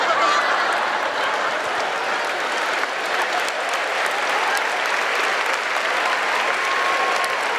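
A church congregation breaks into sustained applause, dense clapping from a large crowd lasting nearly eight seconds at an even, strong level, with faint crowd murmur mixed in.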